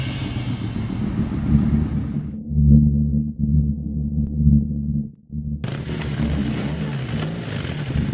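A motor vehicle engine idles and rumbles steadily in the foreground while police take a man away. The low drone is briefly interrupted and then carries on with broadband noise. No speech is heard over it.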